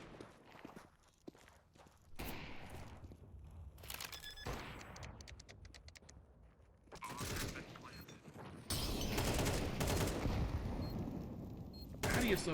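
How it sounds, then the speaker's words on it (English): Gunfire and footsteps from a Counter-Strike match at the PGL Bucharest 2026 Europe Closed Qualifier grand final, with sharp shot bursts and scuffling steps growing into dense, loud action in the later half. "So great headshot there on the Dowie."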